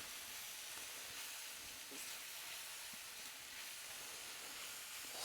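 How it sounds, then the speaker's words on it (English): Garlic frying and being stirred in a pan for a chili con carne, a steady soft sizzle with faint scraping from the stirring throughout, no voices. "Stir this around, get our garlic nice and fragrant."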